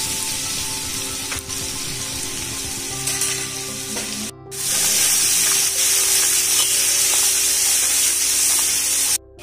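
Garlic paste and asafoetida hit hot oil in a large pot for bulk cooking, and the sizzle surges loud and broad after a brief pause. It then crackles steadily and close with light stirring, and no one speaks.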